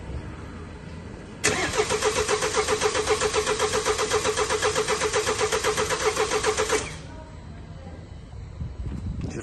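A Mercedes E220d W213 with the OM654 diesel cranks for several seconds on its first start after a timing chain and oil pump replacement, with a loud, rhythmic starter whir that fades into a quieter engine sound.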